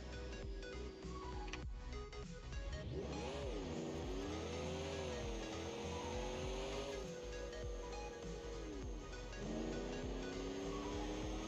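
High-riding truck without sway bars in BeamNG.Drive, its engine droning and revving loudly with pitch sweeping up and down as it drives, a short dip near the end before climbing again.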